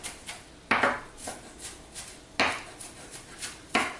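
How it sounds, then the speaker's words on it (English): Chopping an onion with a big knife on a board: sharp, loud knocks repeat in an uneven rhythm, heavier strokes mixed with lighter taps, close up with no talking. "This is why I like big knives, because you could just start chopping away."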